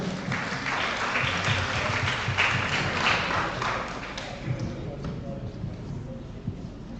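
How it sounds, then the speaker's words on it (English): A crowd at a primary school quiz competition applauds loudly for a few seconds, then the clapping thins and fades away. "Could you give him a round of applause?"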